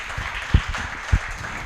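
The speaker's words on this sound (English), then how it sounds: "Another round of applause" Brief burst of audience applause at a benefits launch event, a dense wash of clapping with a couple of sharper accents, moderately loud and fairly close.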